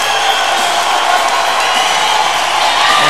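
A hockey arena crowd cheers for the Sudbury Wolves as they head to the league final, with a steady, loud wall of roaring and whooping from the stands.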